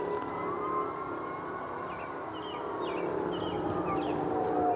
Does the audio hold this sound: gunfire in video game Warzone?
no